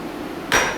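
A blacksmith's hammer strikes hot steel once, sharp and close, forming a set down on the far side of the bar.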